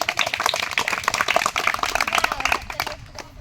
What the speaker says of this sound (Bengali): আসুন হাততালি দাও হাততালি দাও